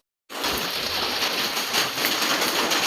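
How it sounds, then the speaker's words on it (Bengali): Heavy rain falls in a steady, loud hiss that starts abruptly and holds without a break, a dense wash of drops drumming on nearby surfaces. "এত জোর বৃষ্টি এসছে"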